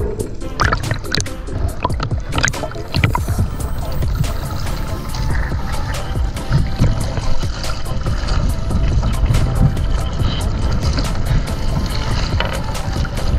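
A small fishing boat's engine idles with a steady low rumble while water splashes and trickles nearby, continuous throughout, during spearfishing in the Philippines.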